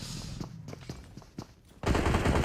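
Gunfire erupts in a PUBG Mobile match, a series of sharp, spaced shots with footsteps between them, then a loud, dense burst of rapid fire at the end.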